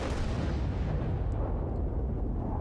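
Warship gunfire and shell hits in World of Warships: a dense, rumbling blast with a long booming decay, heard alone with no talk.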